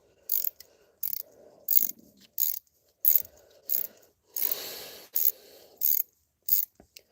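A standard thread tap dipped in acetone is ratcheted through head stud holes on a 1996–2005 Chevy Astro engine, giving close, crisp clicking bursts in an uneven rhythm, with short pauses and one longer grinding turn.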